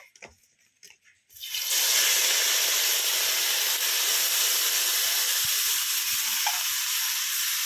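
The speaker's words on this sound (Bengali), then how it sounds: "এবার আমি কড়াইতে দিয়ে দেবো শুটকি মাছটা।" Dried fish drops into hot oil in a wok in a village kitchen. After a few soft clinks, a loud, steady sizzle erupts and holds without a break.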